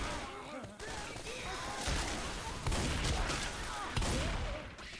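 Rapid bursts of gunfire from the Left 4 Dead 2 video game crackle loudly and almost without pause, with heavier impacts near the middle and end, and a player's voice runs underneath.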